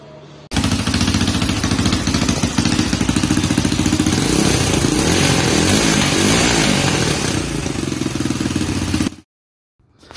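A rebuilt Honda 300EX ATV engine with an exhaust leak at the donut gasket runs loud and close, a steady rapid buzzing putter lasting several seconds before cutting off abruptly.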